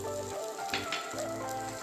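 Spiced oil paste sizzling and spitting steadily in a pan as ground fresh coconut paste goes in for a tilapia oil-chilli curry, a continuous close frying crackle with brief louder bursts and no talk.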